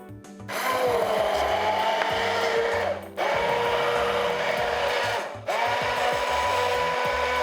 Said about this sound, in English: We're gonna plunge in our immersion blender